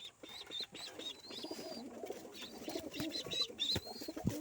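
Pigeons cooing close by, several soft low coos overlapping with a few high chirps and rustles, fairly quiet and uneven.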